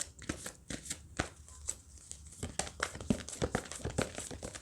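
Oracle cards being shuffled by hand, a quick series of soft riffling bursts and papery crinkles, close and fairly quiet, with no one speaking.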